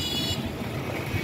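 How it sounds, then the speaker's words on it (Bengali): Car horns blare in congested city traffic in Barishal, Bangladesh, a short burst of honking at the start over a steady roar of road noise. "হর্ন দিচ্ছে।"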